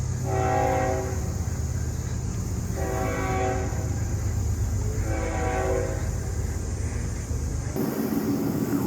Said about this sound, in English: There's that train again.